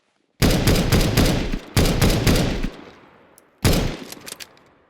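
Auto sniper rifle fired on the T side in Counter-Strike 2: three loud, sharp bursts of rapid shots, each cutting off into a fading echoing tail, with a short pause between bursts.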